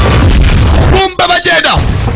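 A bomb blast in a film booms loud and close over a dense roar for about a second, then cuts away to tonal, ringing effects with brief dips.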